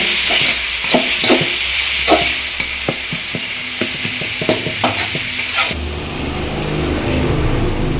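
Tomatoes sautéed in hot oil for mutton kuzhambu give a steady, close sizzle, broken by irregular scrapes and knocks of a spoon stirring in the pan; the frying hiss softens toward the end.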